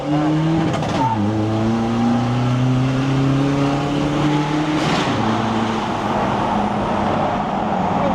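A tuned 1.9-litre car engine revs hard in a single gear, its pitch climbing steadily then dropping sharply as revs are cut, followed by a second rise; loud and close, with road and exhaust roar throughout.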